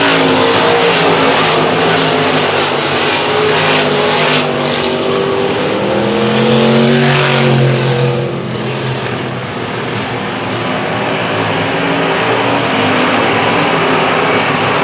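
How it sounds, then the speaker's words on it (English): Race cars roar around a track in a loud, continuous wash of engine noise. Pitch sweeps rise and fall as cars pass by, with no speech audible. "Alex Updegraff underneath the 77B of Ronnie Buck as he takes over that runner-up position."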